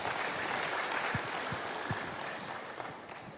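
Applause from a church congregation, a dense steady patter of many hands clapping through the whole moment at moderate, slightly distant level, fading a little toward the end.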